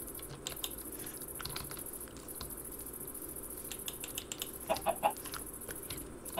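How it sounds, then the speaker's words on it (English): Chickens clucking in modded Minecraft Java Edition, a few soft game clucks around the five-second mark over a steady bed of insect-like chirping and constant high ambient hiss. "If I should start breeding these ducks. I mean chickens."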